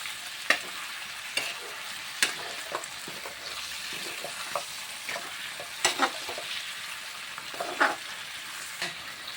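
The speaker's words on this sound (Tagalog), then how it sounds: "Lagyan natin ngayon ng oyster sauce. Yan. Isingkot siya natin." Adobo made without vinegar being stirred in a pan right after oyster sauce goes in, with a steady frying sizzle broken by sharp, irregular scrapes and clacks of the utensil against the pan, close and clear with no talk.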